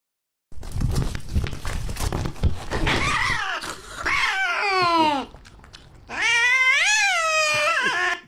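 Cats fight with a burst of scuffling and thrashing, then break into loud, drawn-out yowling caterwauls in two long bouts separated by a short lull.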